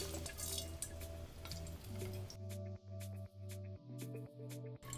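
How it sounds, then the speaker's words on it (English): Water spurting from a keg pushed by a pressurized two-liter soda bottle instead of a CO2 tank, a steady gushing hiss at first that turns into sputtering bursts as the keg empties. "Let's see how much liquid we get out."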